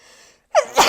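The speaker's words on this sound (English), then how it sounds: "I gotta sneeze" A single close, loud human sneeze with a sharp burst of breath, coming after a brief quiet intake.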